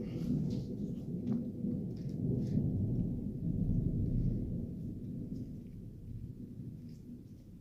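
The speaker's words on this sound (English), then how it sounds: "We are about to have a big time storm." A thunderstorm brews outdoors, with deep rolling thunder rumbling continuously under a wash of rain, swelling and fading over several seconds.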